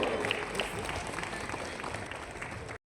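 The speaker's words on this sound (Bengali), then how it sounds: "আপনাকে বরণ করার সময় একটা জোরে হাততালি হোক" Dense applause from a crowd at an award ceremony, steady and fairly loud throughout, then cutting off abruptly at the end.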